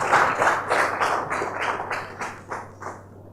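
A conference audience claps in a steady patter of hands, loud at first and then fading over a few seconds as the applause thins out, with a low hum running underneath.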